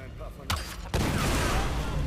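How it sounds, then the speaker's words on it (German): Gunfire aimed at a barrel in the 2013 Tomb Raider video game: two sharp shots about half a second apart, the second followed by a loud sustained blast and rumble filling the rest. "Ich schieße auf die Tonne."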